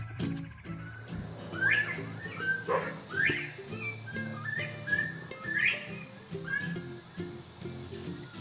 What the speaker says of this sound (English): These are our bobwhite quail.